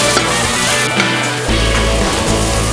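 Prawns sizzle in hot oil in a restaurant kitchen pan, prepared for a coconut dish, with a loud, steady frying hiss and some scraping of a stirring utensil throughout.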